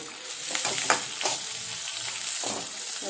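Large green chillies sautéing in a pan for Bombay chutney, with a loud continuous sizzle broken by repeated spatula scrapes and stirs.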